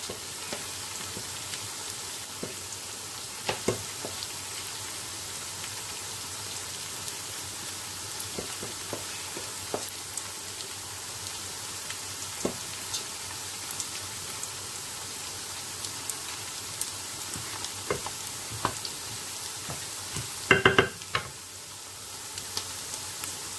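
Nigerian jollof rice cooks in a pot, giving a soft, steady sizzle and bubbling with scattered faint ticks, and a brief clattering stir near the end; close and quiet, no voices.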